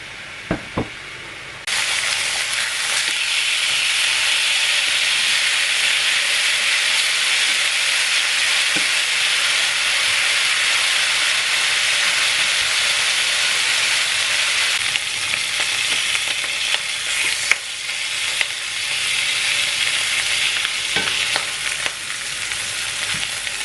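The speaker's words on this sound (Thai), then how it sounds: "เอามาย่างในกระทะที่เก่าจ้ะทุกคน" Pork sizzles loudly and steadily in a hot pan, a dense crackling hiss that starts abruptly and carries on with occasional pops and scrapes.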